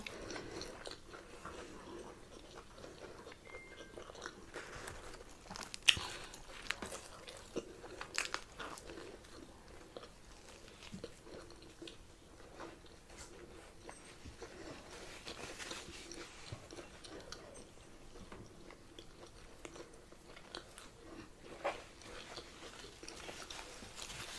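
Someone bites and chews pizza topped with hot chili peppers, soft crunches and wet mastication sounds close to the mic, with a few sharper bites early on, fairly quiet and without talk.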